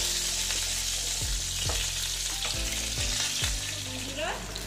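Fish sizzling and crackling steadily in hot oil in a pan for a Bengali doi koi dish, with a few dull low stirring knocks spread across the frying.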